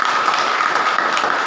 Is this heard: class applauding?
yes